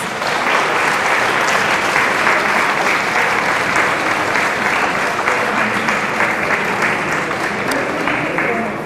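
Audience applause for models on stage at a survivors' fashion show, loud steady clapping from a large crowd that holds evenly for about nine seconds with faint voices beneath it.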